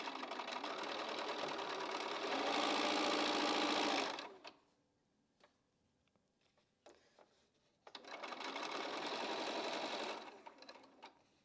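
A sewing machine stitches a quilt block in two long steady runs of fast needle hum, separated by a few seconds of quiet with small clicks and handling noises.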